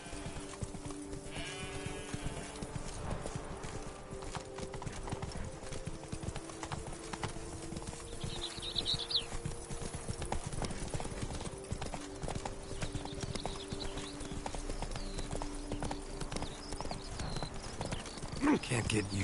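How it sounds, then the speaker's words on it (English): Horse hooves clip-clop at a steady gallop in The Witcher 3: Blood and Wine as Geralt's horse runs, with continuous hoofbeats under game ambience and occasional voices. "Run, Roach"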